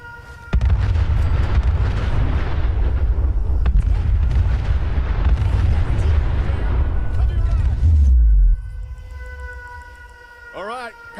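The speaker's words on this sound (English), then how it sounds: "Look, they're firing!" Gunners firing in Fallout 4 as a loud, rumbling barrage of booming shots and blasts for about eight seconds, then cutting off to a quieter tonal hum with a brief rising sweep near the end.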